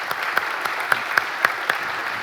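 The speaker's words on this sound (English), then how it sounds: "Can we have a round of applause for these guys?" Audience at a startup conference funding panel clapping briefly, a short burst of scattered hand claps with a few sharper individual claps standing out, moderately distant.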